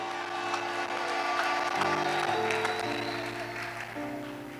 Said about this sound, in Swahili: Situmpigie Yesu makofi ya shangwe